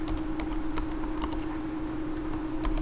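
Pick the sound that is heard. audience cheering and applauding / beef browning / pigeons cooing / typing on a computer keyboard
typing on a computer keyboard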